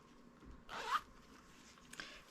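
Zipper on a sewn crossbody bag, one quick close zip pulled along the track with a rasping sweep, followed later by a small faint click, no talking.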